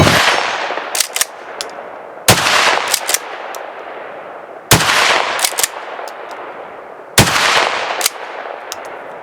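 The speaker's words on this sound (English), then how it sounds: "Five shots at the red plate." A short-barreled Akkar Churchill 12 gauge shotgun fires a series of loud, close blasts roughly two seconds apart at a red steel plate, with sharp metallic clangs ringing after the shots.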